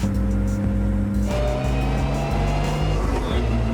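A stripped-out Nissan GT-R race car drives on public roads in Japan, its engine loud and close with a steady droning tone that shifts pitch partway through, as if changing gear while accelerating.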